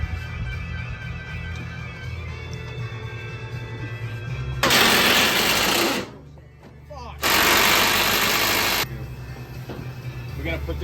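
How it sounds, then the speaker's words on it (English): A small outboard boat motor, cowling on, runs with a steady low idle hum, then twice revs up into loud bursts of broadband roar separated by a brief drop. "We should have a good running motor for this boat."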